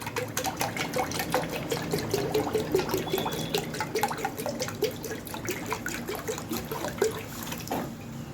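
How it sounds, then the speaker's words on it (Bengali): Water streams steadily into a container to mix a glucose drink, a close, continuous splashing pour lasting several seconds with no talking. "সম্পূর্ণ জলটাই দিয়ে দেবো।"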